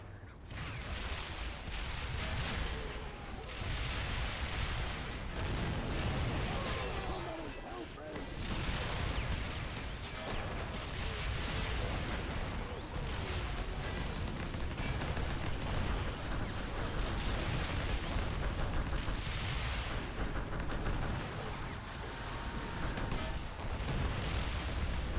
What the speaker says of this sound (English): Oh, close artillery.